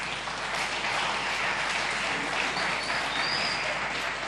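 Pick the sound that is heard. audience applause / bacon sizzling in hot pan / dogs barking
audience applause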